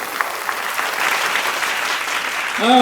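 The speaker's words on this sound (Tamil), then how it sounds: "அவங்களுக்கும் நல்ல கைத்தட்டல் கொடுங்க" Audience applause fills a Tamil-language speech event at a school or college gathering, steady dense clapping from a crowd, loud and sustained with no speech over it.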